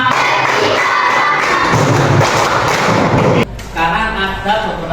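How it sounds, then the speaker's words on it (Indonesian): A classroom group of students claps in rhythm for a group, with loud, dense clapping and some shouting in a busy room for several seconds before it abruptly drops off. "tepuk tangan untuk kelompok 3"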